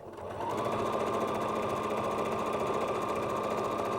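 A sewing machine chain-pieces quilt fabric, starting up and then running at a steady fast stitching rhythm with a constant mechanical hum and rapid needle pulses, close and loud with no speech.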